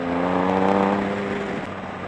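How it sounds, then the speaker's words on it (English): A 2007 Triumph Tiger 1050 motorcycle's exhaust note drones steadily at speed, a close, constant engine tone that swells briefly and then eases off, with wind noise and no talking. "Hopefully that exhaust note is coming through."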